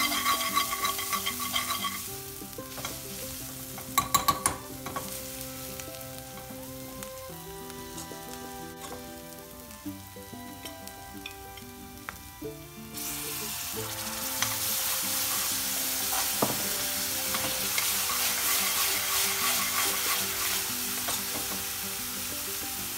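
Onions caramelizing in a pan with salt and spices for a lamb tarka bhuna curry, a continuous close frying sizzle that swells louder partway through, with scattered utensil scrapes and knocks, no voices.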